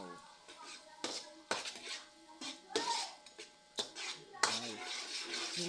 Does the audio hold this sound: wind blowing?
no